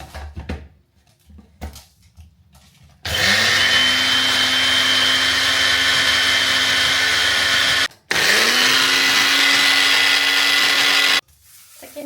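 A mixer grinder jar grinds dried laddu ingredients in two loud, steady whirring runs with a brief stop between them. Quieter handling sounds come before and after the runs.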